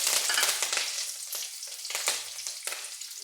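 Mustard seeds, ginger, garlic and curry leaves frying in hot oil, a dense close crackling sizzle with sharp spattering pops that fades a little as it goes, with no talking.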